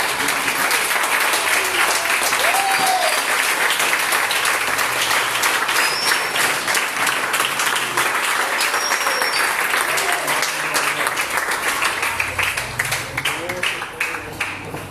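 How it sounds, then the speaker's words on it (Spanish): A church congregation breaks into sustained, dense applause during a Spanish-language sermon, loud and steady throughout before tapering off near the end, with faint voices mixed in. "Dale una aplauso"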